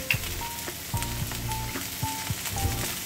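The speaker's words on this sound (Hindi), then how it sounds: "इनको भी डाल के भूनते हैं थोड़ी देर के लिए" Capsicum frying in a pan for chicken roll filling gives a steady close sizzle with short crackles and scrapes spread through, and no talk.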